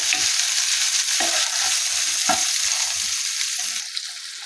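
A loud, steady hiss of spiny gourd sautéing in a pan over a low gas flame, with occasional soft scraping knocks as it is stirred.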